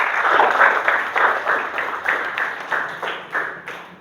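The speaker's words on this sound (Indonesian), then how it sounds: "beri tepuk tangan untuk kelompok" Students in an Indonesian classroom clap for a group that has just presented, a close, fairly loud burst of applause that pulses in short waves and fades slightly toward the end.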